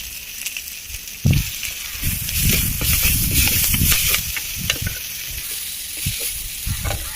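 Onions and tomato sautéing with salt in a pan for a mutton gravy, a loud close sizzle with repeated stirring scrapes, thumps and hissing bursts, and no talking.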